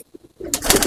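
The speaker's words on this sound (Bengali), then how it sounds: "সব নর পায়রা।" Male pigeons in a loft giving a short burst of cooing after a near-silent start, close and fairly loud.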